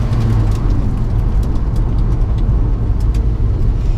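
An Alfa Romeo 4C sports car drives fast along narrow country roads, its engine and road noise a loud, continuous rumble with no talking.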